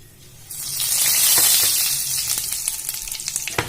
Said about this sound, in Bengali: এবার এর মধ্যে ফোড়ন হিসেবে আমি দিয়ে দেবো প্রথমে সাদা জিরে